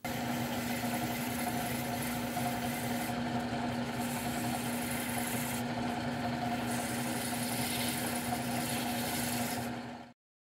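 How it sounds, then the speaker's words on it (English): A drill press spins a wood handle for sanding: a steady motor hum with a constant tone drones evenly throughout, a machine spinning at speed, then cuts off abruptly at the end. "I sanded the round sections in my drill press"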